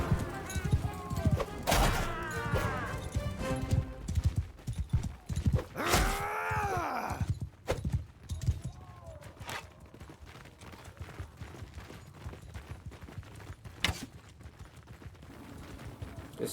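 Horses in a night battle in Mount & Blade II: Bannerlord, hooves clip-clopping in a busy mix with a neigh and shouts, under ongoing talk and combat noise.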